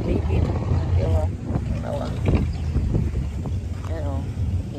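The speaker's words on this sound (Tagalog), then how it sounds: "Pagting kusog yung hangin, oh. Grabe yung hangin." Strong wind gusts buffet an outdoor spot, a steady rough roar across the whole stretch, with people talking over it.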